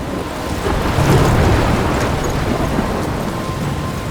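Thunderstorm with rain in the video game Life is Strange: a steady, loud roar of rain and wind with low rumbling thunder swelling near the start, continuous with no speech.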